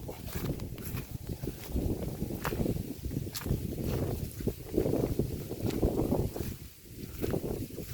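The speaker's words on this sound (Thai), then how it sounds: "เอาแล้วลม เข้าบรรยากาศ" Wind blows outdoors across a grass field, giving a steady gusty rumble and rustle that swells and fades for several seconds.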